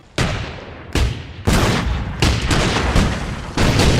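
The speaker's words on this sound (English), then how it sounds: "This was where you could really feel the intensity of the cannons through the sound design." Heavy booming cannon blasts in a pirate-themed Minecraft animation fire one after another, about six loud broadband shots, each followed by a rumbling decay that overlaps the next.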